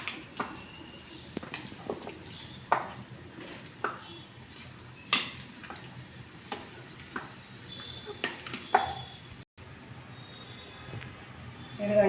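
Cucumber and carrot chutney with green chillies being mixed by hand in a bowl: quiet, irregular taps and clinks with soft stirring against a low background hum.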